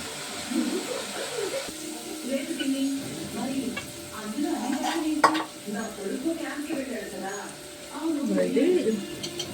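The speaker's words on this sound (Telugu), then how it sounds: "గంటకైనా వేగుతున్నాయండి ఉల్లిపాయ ముక్కలు" Onion pieces frying in a pan with a soft, low sizzle, with occasional stirring and utensil sounds, while a person talks over it.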